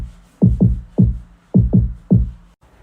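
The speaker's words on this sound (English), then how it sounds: "And here's the kick drum." Deep, booming kick drum from a song, six heavy thuds in uneven pairs, played alone and close with nothing else underneath.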